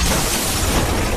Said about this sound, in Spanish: En medio de la explosión